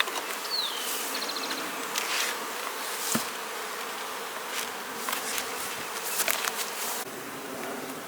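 Honeybees buzzing at the entrance of a hive during supering for swarm prevention, a steady outdoor insect drone with faint individual bees passing close, fairly quiet and continuous with no talk.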